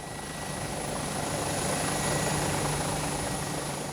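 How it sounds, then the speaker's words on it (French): A helicopter comes in over the slopes of Mount Pelée, Martinique, its rotor and turbine a loud, continuous drone that swells slightly as it draws closer. "L'hélicoptère vient récupérer Jean-Marie et David."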